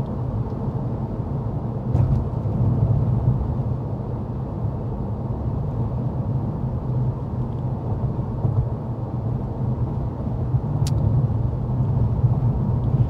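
Steady cabin noise inside a 2023 Honda Accord Hybrid on the move, a continuous low road and engine rumble with tire roar, even and unbroken, with a couple of faint ticks over the drone.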